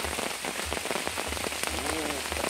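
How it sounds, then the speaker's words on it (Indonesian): Heavy rain falls steadily at a campsite, a dense, loud, continuous patter that hits nearby surfaces, with a faint voice briefly audible under the downpour. "Terus hujan-hujan seperti ini Mak Ilir"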